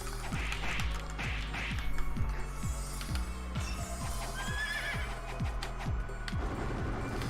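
A horse neighs loudly in the Ragnarok Battle Offline video game, its whinny rising over steady game music with rhythmic clip-clop hoofbeats and occasional crashes throughout.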